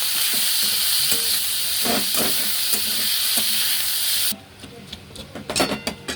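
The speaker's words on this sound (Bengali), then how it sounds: "চিকেনগুলো আমি একটু কড়াইতে করে নিচ্ছি, কেন এই কাঁচা ভাবটা বের হয়ে যাবে।" Chicken pieces searing in a kadai give a loud, steady sizzle and hiss for about four seconds, then the frying cuts off abruptly and a few scraping and clinking sounds follow.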